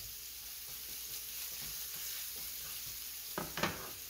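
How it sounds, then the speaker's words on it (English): Onion browning in a pan on high heat for stir-fried vegetables: a continuous soft sizzle and crackle close by, with a couple of louder stirring scrapes near the end and no talk. "Let it brown, let it brown. Let it cook the onion first."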